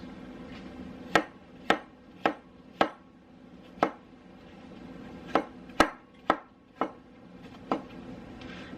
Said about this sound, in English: I'm not trying to cut these in any certain way, just kind of smaller pieces